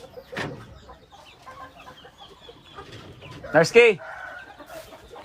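Shamo Aseel chickens in the Philippines clucking and calling intermittently, with one louder burst of fowl vocalising near the end, under a short shouted word and some background talk.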